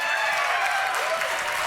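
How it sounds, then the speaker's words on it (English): An audience at a Microsoft Windows 10 and Surface launch event claps steadily, a dense, even wash of applause lasting just under two seconds with no pauses. "we don't know why we're clapping, but that was awesome"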